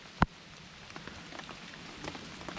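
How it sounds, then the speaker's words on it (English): Rain falling on a muddy, slippery mountain trekking trail near the Kashmir Great Lakes, a faint, steady patter with scattered drops and one sharp close knock near the start. "It has started raining, and yeah, it started raining, and the trail has become muddy"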